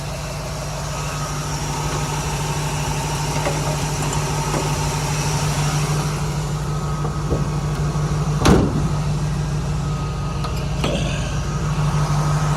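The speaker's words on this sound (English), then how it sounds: "Now I'm going to shut the hood." A 1979 Jeep CJ-7 V8 idles steadily, then its hood slams shut once with a single sharp, loud thud partway through, followed by a couple of fainter knocks over the ongoing engine rumble.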